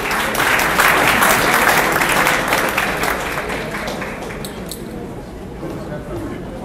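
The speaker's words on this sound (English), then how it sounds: "Let me hear the applause." A gala crowd applauds an outgoing president called to the stage, with loud, dense clapping that gradually thins and fades over several seconds.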